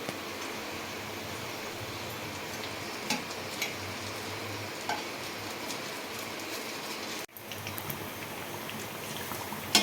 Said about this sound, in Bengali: এইভাবে এক এক করে সব বড়াগুলো ভেজে নেবো